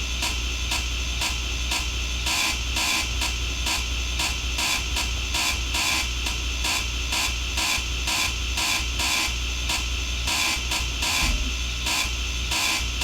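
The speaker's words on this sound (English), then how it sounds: "And grind all of my blocks back." In Space Engineers, a hand grinder chews through built blocks with a continuous mechanical whir, pulsing in rapid rhythmic bursts like a busy printer. It stays close and constant throughout with nobody speaking.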